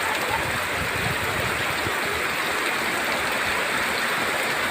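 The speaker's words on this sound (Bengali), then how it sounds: "শুধু বৃষ্টিটা হচ্ছে দেখুন" Heavy rain pours steadily during a cyclone storm, a dense, loud, continuous hiss and patter close by with no voices.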